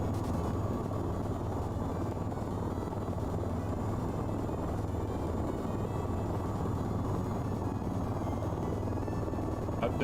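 Helicopter at full throttle in the VTOL VR flight game, a steady loud rotor and engine roar that drones without a break, close and unchanging, with no talk over it.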